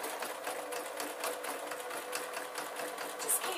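A sewing machine stitches slowly through several layers of felt fabric for a beret-style hat, giving a steady close whirring hum with faint rhythmic needle ticks, running continuously at an even level.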